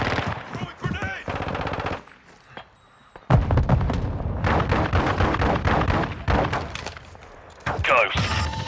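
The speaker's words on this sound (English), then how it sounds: "I'm taking enemy fire! Throwing grenade!" Rapid automatic gunfire and a heavy grenade blast from the shooter game Call of Duty: Modern Warfare II, loud bursts of shots overlapping with booming impacts throughout.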